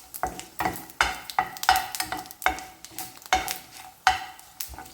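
Paneer frying in hot ghee for Hyderabadi paneer masala is stirred in the pan: a steady close sizzle broken by about eight rhythmic scraping strokes of the spoon, with no voices.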